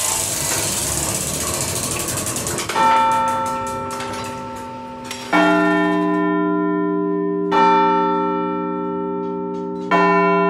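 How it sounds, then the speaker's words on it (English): Massive tower bells at Toronto Old City Hall strike four times, each deep ringing tone sustaining and decaying, after a rough mechanical ratcheting and grinding from the striking gear at the start. "And when the bells rang, we were ready with our gear."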